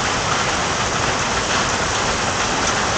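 Heavy rain pours steadily onto surfaces outdoors in a dense, loud, unbroken hiss that fills the whole clip, with no voices.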